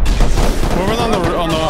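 Rocket launcher blasts and explosions in the survival game Rust, a dense barrage of booming impacts and gunfire layered under continuous voice chat.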